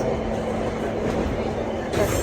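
A passenger train rides on the rails abroad, heard from inside the carriage as a loud, continuous rumbling roar with faint clatter and no clear talk.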